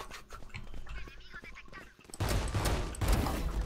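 Rapid bursts of gunfire in the video game Valorant crackle loudly, growing denser and heavier in the second half, with a brief lull just before the barrage intensifies.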